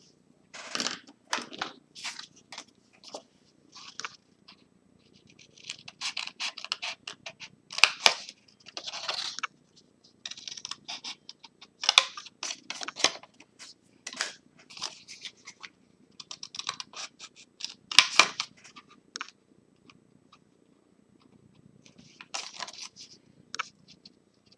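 Scissors cut through cardboard for a homemade cardboard calendar, giving short bursts of crisp snipping and crunching separated by quiet pauses, close up with no talk.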